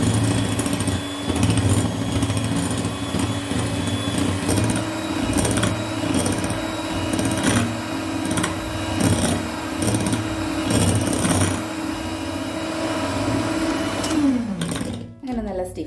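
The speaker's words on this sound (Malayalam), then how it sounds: "ഇത് കുറച്ചായി ഒഴിച്ചിട്ട് ഇത് നമുക്ക് ബീറ്റ് ചെയ്തെടുക്കാം." An electric beater whips whipping powder with a quarter cup of milk for mango pudding, its high, steady motor whine running close and continuous for most of the stretch before cutting off near the end.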